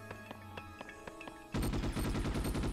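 Gunfire in the Ghost in the Shell: Stand Alone Complex video game: a few scattered single shots, then a loud sustained burst of rapid automatic fire.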